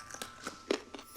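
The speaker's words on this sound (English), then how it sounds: "The carrots are very crunchy. You really have to use your teeth to chew them" Crunchy raw carrots are bitten and chewed, giving a series of short, sharp crunches up close, about five distinct bites spaced irregularly across a brief moment.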